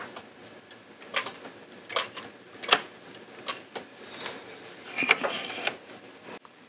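The carriage of an LK150 knitting machine slides across a row, giving a clacking, whirring mechanical run. Several irregular bursts of clicks sound close, with no talk.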